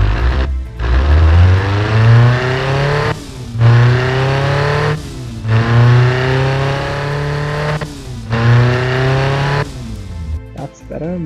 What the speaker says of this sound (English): Put a performance carburetors and intake manifold and listen to this.